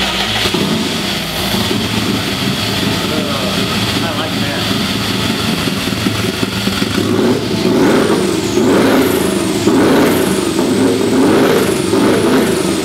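A Project 818 kit car engine cranking, catching and running for its first start, a rough mid-pitched idle that rises into several quick revs near the end, loud and close, with a voice speaking over it.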